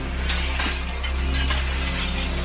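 A sonic boom from the February 2013 meteor over Russia shatters window glass, which tinkles over a loud, deep rumbling roar, with bright crashing bursts spread through the clip.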